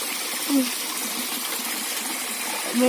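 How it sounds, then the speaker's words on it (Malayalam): Water is poured steadily into a container for a simple homemade fish trap, a continuous rushing splash lasting the whole stretch with a couple of brief low gurgles. "ഞാനും ഇതിനകത്തോടാണ് വെള്ളം നിറയ്ക്കുന്നത്"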